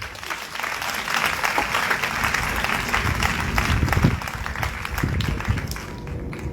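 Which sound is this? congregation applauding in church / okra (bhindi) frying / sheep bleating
congregation applauding in church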